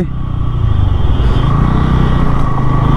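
A motorcycle engine drones loudly and steadily up close from the pillion seat of a bike during a long country ride, with wind rush and no talking.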